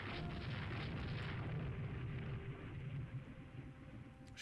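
A torpedo hit explodes against a warship in the naval strategy game Rule the Waves 2, a dense low rumbling blast that fills the first seconds and then slowly fades, with no talking.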